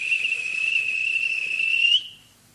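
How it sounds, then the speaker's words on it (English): A railway guard blows a shrill whistle for a tank engine, one steady piercing blast lasting about two seconds, close and loud, then it cuts off into quiet. "At last, the guard blew his whistle."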